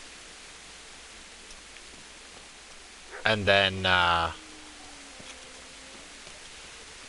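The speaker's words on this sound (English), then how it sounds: "in this terrible rain with soaking wet dead bodies" Steady rain falls in the medieval game Kingdom Come Deliverance as a soft, even hiss throughout, with someone speaking briefly over it midway.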